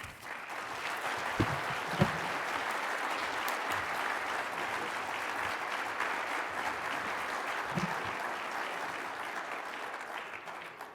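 Sustained audience applause fills the room as a Rotary Club plenary session welcomes its speaker, steady and full for about eleven seconds with no talking over it.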